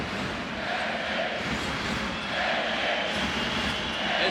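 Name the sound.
basketball crowd chanting Esti at Eurobasket game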